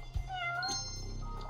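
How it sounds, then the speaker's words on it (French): A cat in the video game Judgment gives a single short, close meow with a slight rising and falling pitch over a low steady background hum. "Il y a un chat en plus !"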